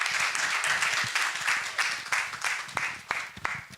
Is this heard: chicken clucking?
no